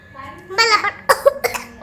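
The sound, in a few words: cough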